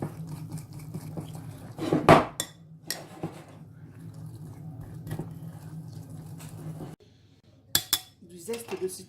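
A spoon or whisk stirs a lemon icing glaze for Alsatian brédeles in a bowl, giving scattered close clinks and scrapes against the bowl over a quiet low hum.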